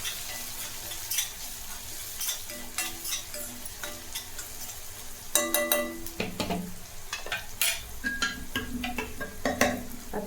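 Cumin powder and spices are stirred in a hot pan for masoor dal amti, with a continuous sizzle broken by irregular scraping and clinking strokes of the spoon, close and fairly loud, with no voices.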